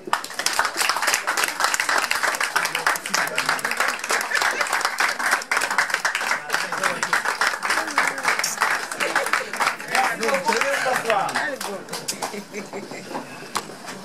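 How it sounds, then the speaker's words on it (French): Audience applause greets the arrival of a speaker at a foundation's general meeting in Paris, a dense, steady clapping that fills the room for most of the clip and then thins out near the end. "sous vos applaudissements, voici pour vous Michel Mbongo."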